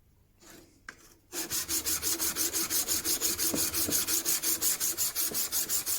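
Secateurs blade rubbed on a 300-grit sharpening stone in quick, steady back-and-forth strokes, a close rhythmic gritty scrape repeating about four times a second after a few faint handling taps, with no talk.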